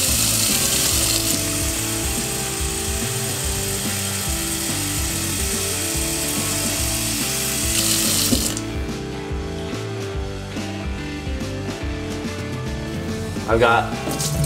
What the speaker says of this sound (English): I'm back at the sink. I'm gonna go ahead and fill it up with water